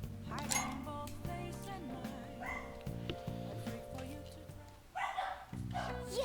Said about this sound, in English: I don't know why my dogs are barking so much right now.